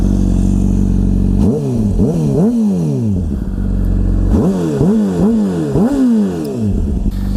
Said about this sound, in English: let's go ahead and give you guys a quick throttle.